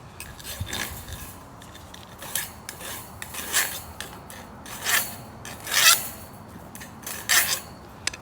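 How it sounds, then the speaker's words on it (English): A metal file scrapes a nub down on a weed cage in repeated rasping strokes, with about eight distinct scrapes at an uneven pace, close and fairly loud, and no talking. "you see that nub right there? You wanna file that down."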